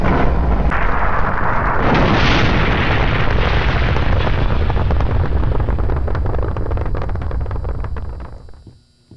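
A rocket blasts off in a Roblox game, a loud sustained roaring rumble that fills the whole clip and fades out near the end.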